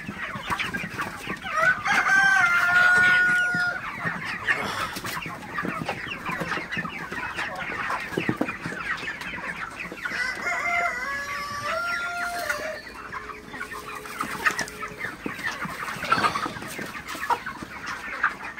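Broiler chickens clucking and calling continuously in a noisy coop, with a steady murmur of many birds and occasional louder squawks throughout.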